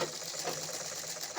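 A sewing machine stitches fabric in a steady, fast mechanical whir, close and fairly quiet, with no voices over it.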